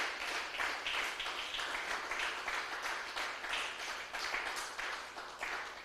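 Church congregation clapping together in steady, rhythmic applause, a broad crackling wash with regular pulses, fairly faint and with no voices over it.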